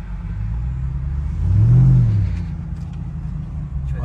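A Ram TRX pickup's 712-horsepower engine revs up loudly to a deep roar and drops back down, with a steady idle rumble before and after.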